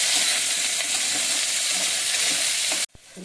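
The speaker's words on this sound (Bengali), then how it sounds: "এবার শুক্তোর জন্য উচ্ছেটা আগে ভেজে নিচ্ছি।" Bitter gourd pieces fry in hot oil for a shukto, giving a steady loud sizzle that cuts off abruptly near the end, followed by quieter kitchen sounds.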